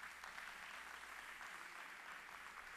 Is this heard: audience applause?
yes